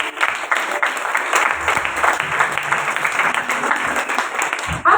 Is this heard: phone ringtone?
no